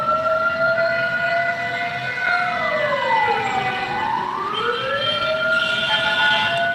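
An emergency vehicle siren wails loud and close, its pitch gliding down and back up in a long sweep, with no talk over it.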